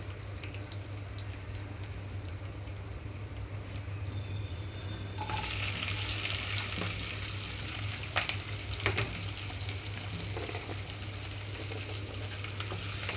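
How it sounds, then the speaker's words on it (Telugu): Sliced onions and green chillies hit hot tempering oil in a pan for an Andhra-style ridge gourd and drumstick curry. A loud, steady broadband sizzle starts suddenly partway through, with a few sharp clicks, after a quieter hum. "ఇప్పుడు నేను ఇందులోకి కట్ చేసి పెట్టుకున్న ఉల్లిపాయలు అలాగే పచ్చిమిరపకాయలు వేస్తున్నాను"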